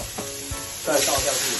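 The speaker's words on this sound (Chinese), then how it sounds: "炒菜就是要有这个声音啊" Mushrooms and mixed vegetables sizzle loudly as they are stir-fried in a wok, a steady frying hiss with scraping stirs, growing louder midway, while a person speaks briefly over it.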